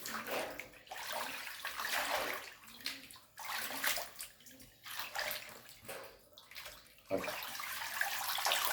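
Water splashes and sloshes in bursts while pork intestines are washed by hand, with repeated pouring and swishing and short pauses between, close and fairly quiet.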